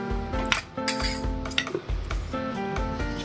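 A metal knife scrapes and clinks against the edge of a cooker pan as a cake is loosened, making repeated close metallic rings and scraping strokes.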